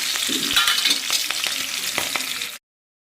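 Onions tipped into green chillies already frying in oil for a home-style chicken fry set off a loud, steady sizzle with scattered crackles and stirring scrapes, close up, cutting off abruptly near the end.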